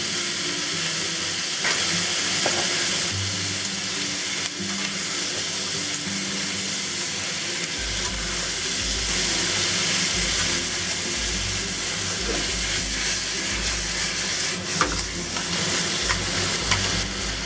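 Garlic scapes stir-fried with shallots in a hot wok after Shaoxing wine, white pepper, sesame oil and oyster sauce go in, a loud steady sizzle and hiss with scraping stirs and a low rumble underneath, no voices.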